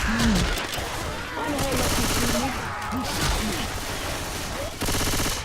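Gunfire from zombie-shooter play in Left 4 Dead 2, dense bursts of shots running throughout under a busy game mix, with people talking over it.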